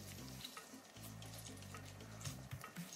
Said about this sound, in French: je vais rajouter, regardez, le jus de mon orange